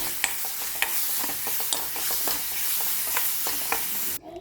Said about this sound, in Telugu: ఇలా పోపు వేగాక మనం ప్రిపేర్ చేసుకున్న కారం కూడా వేసి 1 నిమిషం బాగా వేయించాలి.